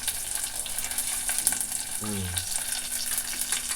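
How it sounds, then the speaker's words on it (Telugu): Tomato rasam tempering with curry leaves sizzles in a pan as a dense, continuous frying hiss with a short voice partway through. "ఇదంతా కొంచెం సేపు వేగనిద్దాం"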